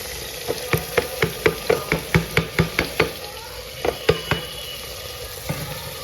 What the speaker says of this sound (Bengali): তারপরে কেটে রাখা সবজিগুলো এর মধ্যে দেব।